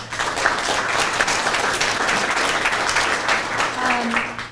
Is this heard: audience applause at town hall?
yes